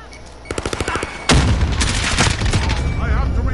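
Video game gunfire during a long-range shot: a fast burst of sharp shots, then one loud, booming blast followed by a ringing tail and further crackling. Voices are faintly present beneath it.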